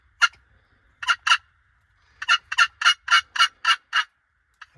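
A wild turkey gobbles during a Minnesota spring hunt: a single gobble, then a pair, then a rapid string of about seven bursts, clear and fairly close against a quiet background with no talking.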